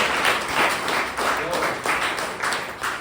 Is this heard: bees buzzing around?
no